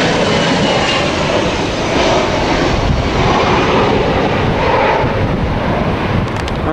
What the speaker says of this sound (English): And there's another Ryanair going off. Off it goes.